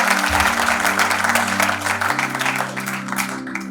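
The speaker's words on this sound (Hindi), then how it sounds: "एक बार जोरदार तालियां भोपाल की जनता के लिए" Loud applause from an audience in Bhopal fills the space alongside a steady low musical drone, clapping dense and continuous throughout.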